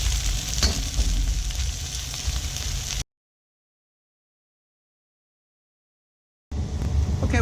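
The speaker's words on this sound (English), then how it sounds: "We're going to add the carrot and the asparagus and the burdock. And we're going to let these stir fry for a bit" Carrot, asparagus and burdock stir-frying in a wok, a loud close sizzle and crackle for about three seconds, then silence, then the sizzling resumes.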